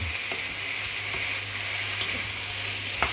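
Steady frying sizzle from food cooking in a pan for banquet rice, an even hiss throughout with a couple of faint utensil taps and a brief clink near the end.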